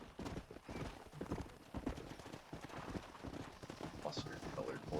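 Horse hooves clip-clop at a steady trot in the Western game Red Dead Redemption, a continuous rhythmic patter at moderate level running through the whole stretch with faint background game noise.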